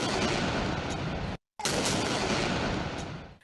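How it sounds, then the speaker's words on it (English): Artillery guns firing a 31-gun ceremonial salute in the federal capital on Pakistan Day, a dense, loud roar of blasts that breaks off for a moment and then resumes before fading. "The day dawned with a 31-gun salute in the federal capital and a 21-gun salute in provincial capitals"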